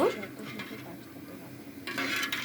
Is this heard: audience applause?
no